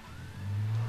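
Car engine revving in the video game Alan Wake, a short rising mid-pitched drone that swells louder over about a second.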